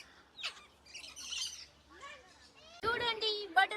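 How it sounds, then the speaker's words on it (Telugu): Differently coloured parrots at Kothwalguda Eco Park in Hyderabad give scattered chirps, then a burst of loud, harsh squawks near the end, with children's voices faintly in the background. "డిఫరెంట్ కలర్ చిలుక ఎంత బాగుందో ఇక్కడ"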